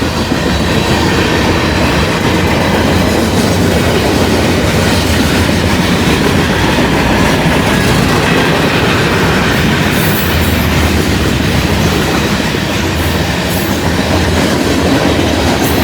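A loaded mixed manifest freight train rolls by close and loud, a constant heavy rumble with rattling cars and faint wheel squeal throughout.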